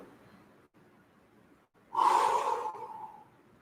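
Sharp rhythmic breathing from a kundalini yoga session, a strong forceful burst of breath that follows quieter, fainter breaths and then fades out.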